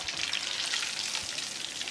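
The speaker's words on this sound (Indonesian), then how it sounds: "Terus kita goreng lagi bagian buntutnya." Tilapia tail pieces frying in hot oil give a steady, loud, dense sizzle that runs unbroken with no voices.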